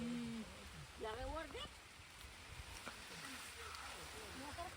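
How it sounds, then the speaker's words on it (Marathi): Rain falls steadily on a farm with an even, close hiss throughout, and a voice rises briefly above it. "लय पाऊस आला हाय ग बाई"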